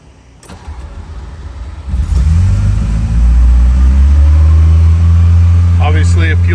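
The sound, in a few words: 1980 Ferrari 308 GTSi cold engine start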